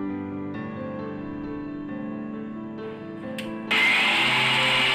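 A kitchen mixer grinder whirs with a steady tonal motor hum while it blends cream with salt, sugar and ice cubes into butter, then jumps to a louder, harsher whine near the end.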